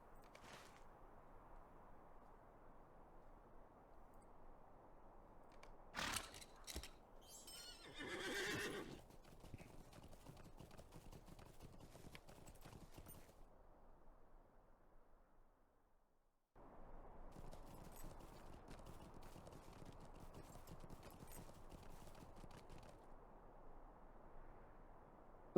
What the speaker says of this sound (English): Okay, back on our horse.